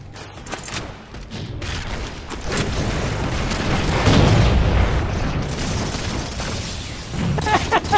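Concussion rifle blasts in a Halo 4 Infinity Slayer multiplayer match: repeated loud booming bursts over dense game noise, swelling into a heavy sustained barrage near the middle before easing.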